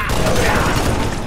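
Gunfire in the Halo: Reach campaign on Xbox 360, a dense continuous fusillade across a short burst, loud and close, with a voice talking over the shooting.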